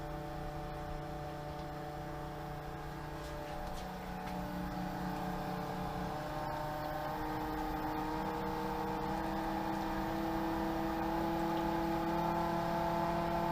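A Pentair SuperFlo variable-speed pool pump motor runs with a steady electric hum and whine, its tone shifting slightly upward partway through as the speed changes, constant and close with no voices.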